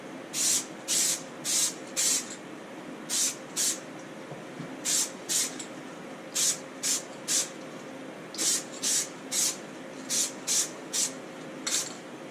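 Spray can applying top coat to car bodywork, in a steady rhythm of short hissing bursts with brief pauses between them, close and fairly loud with no talk.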